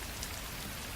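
Steady rain patters on a surface in a short looped sound effect, a dense, even hiss with scattered droplet ticks and no pauses.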